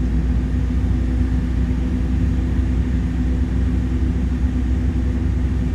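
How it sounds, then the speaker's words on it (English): Pratt & Whitney engines on an Airbus A300 cargo jet in Microsoft Flight Simulator 2024 give a muffled, steady low drone with a constant hum and no talk. "These Pratt & Whitneys kind of sound like nothing. They just kind of like, they're muffled."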